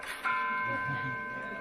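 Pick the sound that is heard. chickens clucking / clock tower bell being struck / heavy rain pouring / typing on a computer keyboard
clock tower bell being struck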